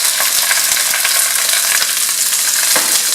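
Spinach hits a hot pan with a loud, steady sizzle and crackle running throughout, close and unbroken, with a few faint knocks and stirs and no voices.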